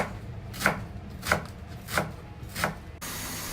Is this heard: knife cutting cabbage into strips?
yes